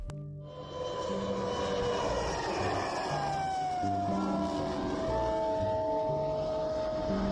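An F-104 Starfighter jet engine roars steadily with shifting high-pitched whining tones, a loud continuous drone passing overhead.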